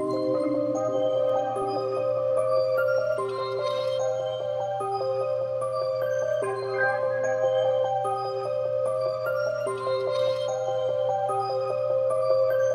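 A steady, layered electronic loop plays continuously, with a sustained low drone beneath shimmering melodic tones and soft repeating accents, no vocals.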